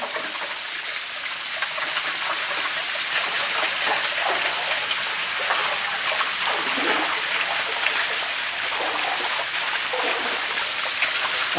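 Small springs trickling water into a 35-foot-deep well during a drought, a steady, even hiss of running and splashing water that continues unbroken, with no voices.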